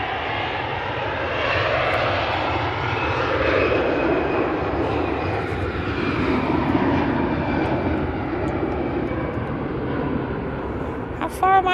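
An EasyJet Airbus A320 bound for Athens roars at Manchester Airport, its jet engines giving a strong, sustained rumble with a slowly shifting whine that swells and holds across the stretch, and a brief knock near the end.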